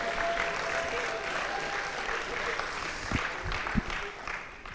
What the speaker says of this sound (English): another round of applause for these amazing student leaders